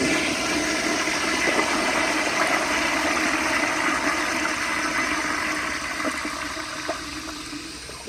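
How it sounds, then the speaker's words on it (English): A 1951 Crane Santon toilet gives a powerful, sustained flush, a loud rushing roar of water that holds steady for several seconds before slowly tapering as the bowl drains. "that definitely had a really nice, powerful flush"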